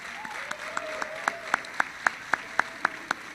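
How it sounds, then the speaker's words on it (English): Audience at a candidate debate applauding for a city councilor, sparse, evenly spaced claps building into a steady rhythmic beat, fairly distant and alone, with a faint voice early on. "Let's have a round of applause for Councilor Arroyo."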